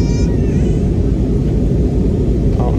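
Steady, loud roar of an airplane cabin in flight from Boracay to Manila, a dense engine and airflow rumble held constant throughout with no voices.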